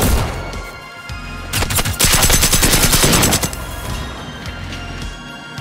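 Automatic weapons blaze in Generation Zero during an assault on an FNIX base, with sporadic shots building into a loud, sustained machine-gun barrage that peaks midway and then tapers to scattered fire.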